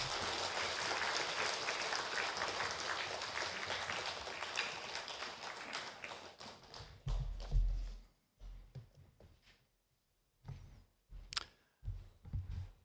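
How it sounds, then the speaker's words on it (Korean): Church congregation applauding to welcome a visiting professor for a parents' school lecture; sustained dense clapping fills the first six seconds, then thins into scattered claps and fades to near silence with a few isolated bursts. "박수로 맞아주시기 바랍니다"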